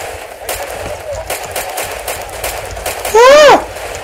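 Gunfire in the video game Far Cry 2, scattered sharp shots spread across the clip, followed by a loud sweeping whine near the end.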